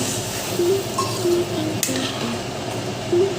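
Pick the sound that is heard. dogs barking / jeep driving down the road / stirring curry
stirring curry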